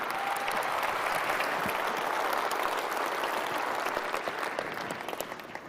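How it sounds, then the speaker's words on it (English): Sustained applause from an audience, dense steady clapping that fades slightly toward the end. "Round of applause for Rick."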